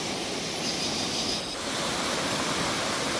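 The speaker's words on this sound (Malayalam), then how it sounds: "വേനൽക്കാലത്ത് നല്ല കണ്ണീർ പോലെയുള്ള ജലമാണ് ഇതിലൂടെ ഒഴുകുന്നത്" Canal water flowing steadily where it crosses above a stream feeding the Chalakudy river, a continuous close rushing wash with no breaks.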